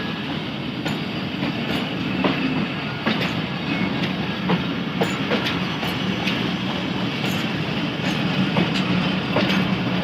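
A train departs Bhakkar railway station with a steady, loud rumble of rolling wagons, repeated clickety-clack wheel beats over the rail joints and faint squeals, continuous throughout with no voices.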